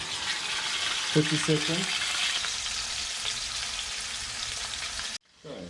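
Filet mignon sears in a hot pan with a steady, bright sizzle. A couple of metallic clinks from a utensil sound early on, a voice speaks briefly over the frying, and the sizzle cuts off abruptly near the end.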